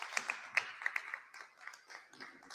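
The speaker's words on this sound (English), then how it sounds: "Give the drummers a warm round of applause" Scattered, faint handclaps come from a meeting audience applauding drummers at a Jamaica Hurricane Melissa emergency response gathering in North London. The claps are light and uneven, with no continuous roar.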